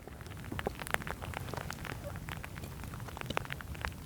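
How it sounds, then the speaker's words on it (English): Steady rain patters and drips on nearby surfaces, a dense, even crackle of drops with no voices. "So rain, thunder and lightning,"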